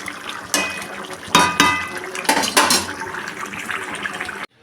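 Fried rohu fish pieces go into a simmering curry of drumsticks and potatoes, giving loud clattering pan knocks and bursts of liquid sloshing over a constant bubbling hiss, ending abruptly.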